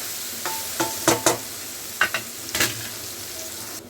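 Onion and tomato sauteing in a pan for an intestine gravy, with a low steady sizzle and several sharp clacks of a spoon stirring against the pan, no voices.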